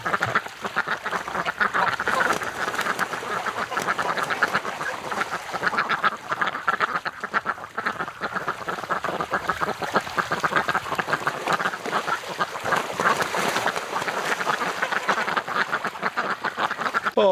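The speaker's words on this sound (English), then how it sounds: "Oh man, these ducks are demanding." Female ducks quacking loudly and insistently in a winter setting, a dense, continuous chorus of overlapping calls from several birds close by, with no talk over it.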